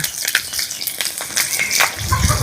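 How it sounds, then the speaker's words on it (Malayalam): Chopped home-grown onions sauté in hot coconut oil in a pan, giving a steady, crackling sizzle with occasional stirring scrapes throughout. "അപ്പൊ ഞാനിതാ ഉള്ളി നമുക്കിതാ വെളിച്ചെണ്ണയിലേക്ക് ഇട്ട് കൊടുക്കാം."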